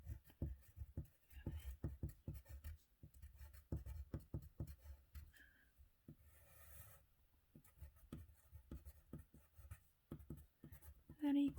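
Pen writing out a chemistry equation by hand, quick rhythmic scratching strokes in bursts, close and moderately quiet, with a voice occasionally talking.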